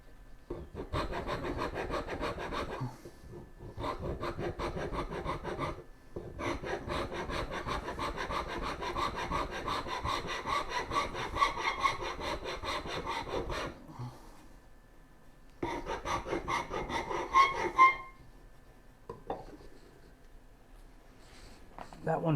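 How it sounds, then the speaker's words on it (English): A cabinet rasp files a flat area on a wooden turning bow saw in long runs of dry, scratchy strokes, close and clear, broken by short pauses and a longer gap near the end. "cabinet rasp and I'm basically filing this flat area off so that it all gets in together"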